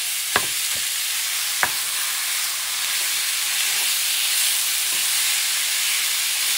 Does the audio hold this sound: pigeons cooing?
no